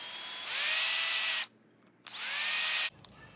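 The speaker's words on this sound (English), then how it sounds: "Now we got our pilot holes drilled into there. I'm going to go on ahead through." A power drill bores through wood after pilot holes in two loud, close bursts, each revving up to a steady whine, separated by a brief pause.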